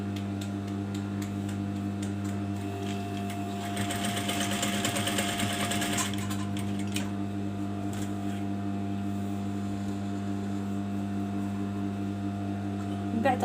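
An electric sewing machine stitching a gandoura, with a steady mechanical hum running throughout and a burst of faster, busier stitching in the middle, while someone talks over it at times.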